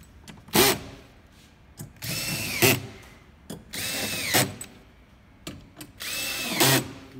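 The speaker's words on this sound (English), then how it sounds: "With all the bolts started, then you can now go through and tighten them up." A power tool tightens cargo barrier mounting bolts in an Isuzu MU-X or Colorado, coming in four separate loud bursts, each a whirring run ending in a sharp ratcheting catch, with quieter clicks between them.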